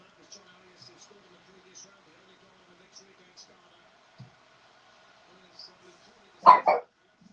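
A puppy gives a short double bark, loud and close, near the end of an otherwise quiet stretch with faint background clicks and murmurs.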